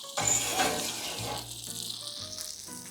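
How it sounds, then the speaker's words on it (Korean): Roast beef fresh from the oven sizzles and crackles steadily up close, a bright hissing fry with small pops and faint clinks of a pan. "고기가 지글지글 맛있게 구워졌죠?"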